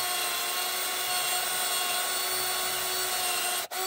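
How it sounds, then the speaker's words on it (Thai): A cordless 24-volt electric drill, running on a rebuilt battery pack, bores into wood with a steady, dense whirring grind that holds evenly for several seconds before a brief cut-off near the end, close and without speech. "จะมาเจาะไม้ตัวเดิมที่ทดสอบ"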